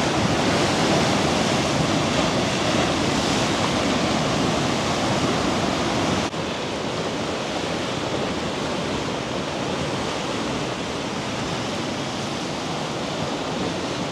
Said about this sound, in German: Eine tosende Brandung hier.